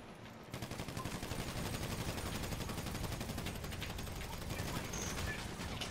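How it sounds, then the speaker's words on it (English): Rapid, continuous video-game gunfire crackles in dense bursts throughout, fairly faint and steady, with a brief quiet moment at the start. "We all just aim at him and start shooting."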